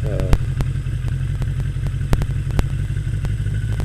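A Harley-Davidson motorcycle with a Drift HD camera mounted, ridden on a ride: a steady loud low engine drone with periodic knocks and clatter, while someone talks over it.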